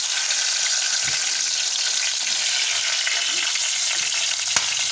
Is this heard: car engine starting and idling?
no